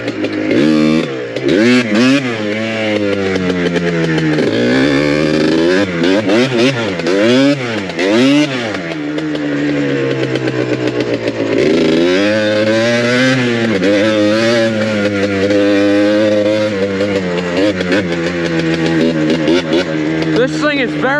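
Yamaha Blaster ATV with a very short muffler, its engine revving loudly and repeatedly, rising and falling in pitch throughout while riding, harsh and close with no one talking over it.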